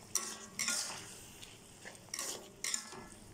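A spoon scrapes and clinks against a pot in several separate strokes, quiet between them, with a light sizzle in the background.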